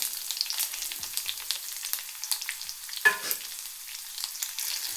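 Shallots, curry leaves and dried red chilies frying in hot oil with popped mustard seeds for erissery, making a continuous close, crackly sizzle with small spits and a brief louder pop, with no talking.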